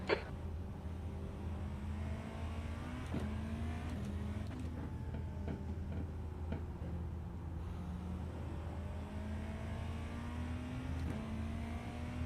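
A sports-class race car in the iRacing sim drives laps, its engine note climbing and dropping through repeated gear shifts, with brief tyre and contact clicks; a steady, fairly quiet drone with no talking.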